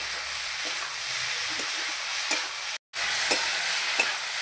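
Leafy greens (beto shak) frying in a pan while being stirred, an even close sizzle with soft periodic scrapes of a spatula, briefly cutting out before resuming.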